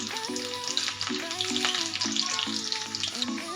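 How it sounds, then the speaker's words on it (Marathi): Garlic frying in hot oil until it darkens for a seasoning, a close, continuous crackling sizzle with spatters, accompanied by a tune playing in the background. "तेलामध्ये लसूण ना तळून घ्यायचा आहे"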